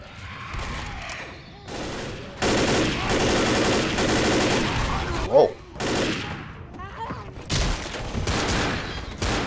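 Rapid gunfire rattles through a Left 4 Dead zombie campaign in repeated loud bursts of overlapping shots separated by brief lulls, with some talk mixed in.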